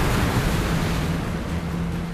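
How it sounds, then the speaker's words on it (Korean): A 47-ton fishing boat throws heavy spray as it pushes through rough sea, making a loud, continuous roar of wash and wind noise with no break or speech. "투망 장소에 가까워지자 47톤에 육박하는 어선의 무게를 가늠케 하는 엄청난 물보라."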